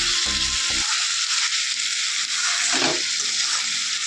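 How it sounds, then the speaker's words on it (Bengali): Chopped spice masala sizzles loudly in a pan as a little water is added, a steady close frying hiss with brief stirring scrapes and bubbling. "সব মশলা কুচিয়ে তারপরে রান্না করে, তার জন্য অল্প করে জল দিচ্ছে আর কষাচ্ছে"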